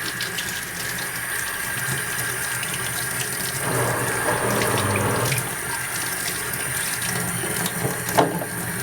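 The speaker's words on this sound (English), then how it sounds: "we can just rinse all this stuff off" Water runs from a tap to rinse the parts of a Bissell carpet cleaner, a steady close splashing stream that grows louder midway as the flow hits the parts, with a clunk near the end.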